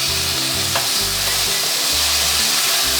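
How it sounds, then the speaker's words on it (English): Fresh pineapple pieces frying in a pan, a loud, dense, continuous sizzle with a steady crackling hiss throughout. "is to fry off the pineapple"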